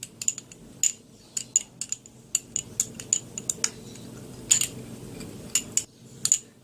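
Metal spoon scraping and clinking against a bowl while hair remedy ingredients are stirred together, a steady run of sharp, bright taps at irregular intervals over a soft, low stirring rumble.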